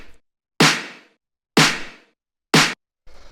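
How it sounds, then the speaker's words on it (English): Clap and boomy snare drum samples struck together in a disco tech house beat: three loud, sharp layered hits about a second apart with short bright decays, plus a quieter hit at the end, no voices. "So the first thing here would be the clap and snare together"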